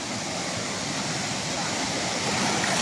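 Water pours down steadily at Sprite Falls, a broad, close, unbroken rushing roar that fills the whole stretch at even loudness.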